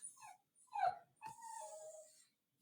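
A puppy whimpers and yips in short, high, plaintive bursts, close and fairly quiet, with brief pauses between cries.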